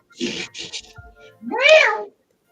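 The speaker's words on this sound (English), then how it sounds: "Wow, that's a cat." A cat gives a single clear, drawn-out meow at close range, preceded by a brief burst of human talk.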